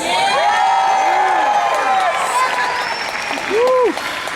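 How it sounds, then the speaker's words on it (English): Audience applause at a WonderCon 2019 convention panel for Dark Phoenix: loud, sustained clapping and cheering from a large crowd, with whoops and shouted voices rising and falling above it, plus a brief louder burst near the end. "keep that applause going"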